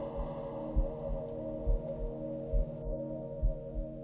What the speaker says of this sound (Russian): Прислушайся к стуку своего сердца.